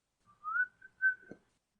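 A short, bright whistled phrase rising and then holding steady, broken off abruptly near the end, solo and close.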